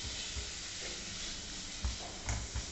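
Prawns fry in mustard oil with salt and turmeric, a steady close sizzle with occasional faint stirring clicks, low and continuous with no talking.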